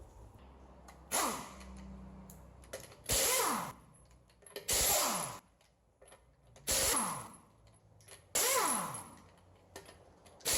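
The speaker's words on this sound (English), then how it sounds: "take the lug nuts off the rest of the way" A hand ratchet works the lug nuts off a 2007 Kia Rondo during a driver-side CV axle replacement, giving five loud, separate bursts of rapid clicking, each followed by a brief quieter pause.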